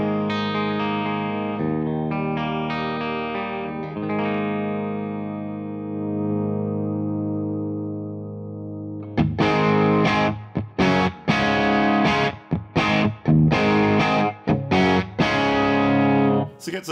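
Electric guitar through an AmpliTube Mesa Boogie amp simulator with added gain: a few crunchy chords left ringing, then a run of punchy, choppy distorted chord stabs with short gaps, loud and close.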